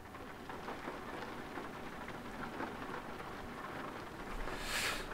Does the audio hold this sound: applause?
no